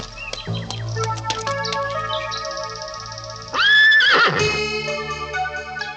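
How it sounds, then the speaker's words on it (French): Horses whinny in a cartoon scene, a drawn-out neigh in the first half and a louder, rising whinny around the middle, with bright chirping and musical tones layered around them; no talking. "Tu entends ça? Des chevaux."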